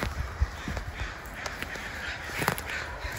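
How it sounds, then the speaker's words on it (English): Unseen crows caw repeatedly from somewhere near a trail above a creek, their harsh calls scattered over steady outdoor background noise with no voices. "Oh, crows are upset about something."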